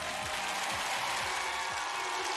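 A studio audience at the final of a TV singing competition applauds a contestant after her number. The clapping is a steady, dense wash with faint rhythmic low thumps underneath, and no talking.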